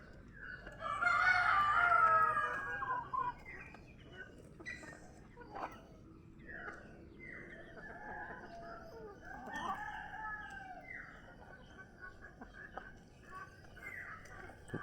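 Native chickens crow and cluck at feeding time in a backyard flock, one loud nearby rooster crow opening, followed by scattered clucks and softer calls, with faint voices now and then.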